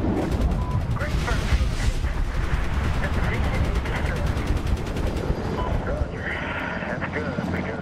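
Dense gunfire and artillery from a Medal of Honor battle, with rapid repeated shots and heavy booms layered over a continuous roar, loud and close throughout; a voice talks over the din.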